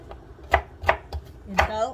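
A sharp knife chops onions on a non-slip cutting board in four or five crisp, close thuds at an uneven pace, with no talk over them.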